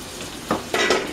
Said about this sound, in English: Our peppers are frying now real good.